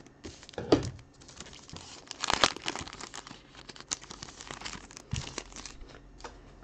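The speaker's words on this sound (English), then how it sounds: "I cannot get this pack open." Someone struggles to open the foil wrapper of a trading card pack, with bursts of crinkling and tearing between quieter handling, close and irregular.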